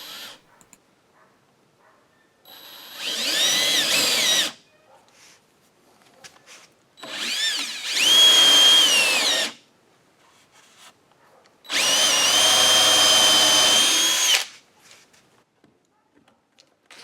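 Three bursts of a power drill boring counterbores into wooden seat rails, each running a second or two with quiet pauses between, close and loud.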